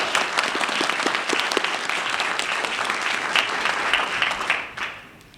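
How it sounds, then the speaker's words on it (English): An audience at a Board of Education meeting applauds for a teacher honoree, a dense, steady clapping that holds for several seconds before quickly tapering off, with no talk over it. "So let's have another round of applause for Ms. McGee"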